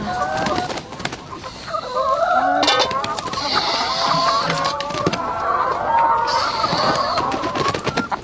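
Chickens at a Baloch nomad poultry farm cluck and chatter steadily throughout, with overlapping short calls from several birds close by and a busy outdoor background.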